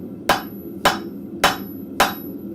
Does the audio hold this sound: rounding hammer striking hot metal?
yes